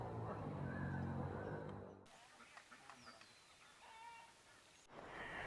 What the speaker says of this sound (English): We've got a little flock of ducks